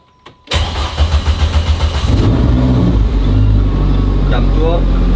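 Renault Mégane engine cranks with a rapid starter chatter, catches after a couple of seconds, then settles into a loud, close, rough idle with light revving; a voice speaks briefly near the start.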